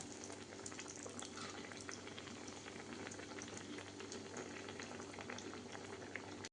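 Cheesy snacks frying in hot oil give a steady, dense sizzle and bubbling that runs unbroken for the whole stretch, close and fairly quiet, with no voices.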